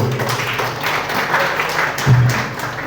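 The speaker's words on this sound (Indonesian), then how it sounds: "Tepuk tangannya untuk Mas Anggoro." Applause at an organisational workshop; a steady, loud wash of many hands clapping together fills the room without pause, with a murmur of voices underneath.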